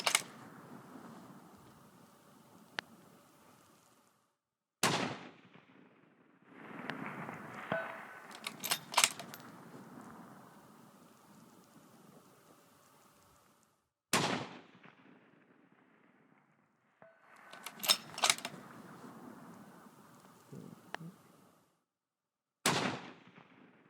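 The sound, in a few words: rifle shots with Sierra 6mm 105gr MatchKing bullets in snow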